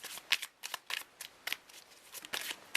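A deck of tarot cards being shuffled by hand for a reading, a run of quick papery riffles and flicks in uneven bursts, close and clear with no talk.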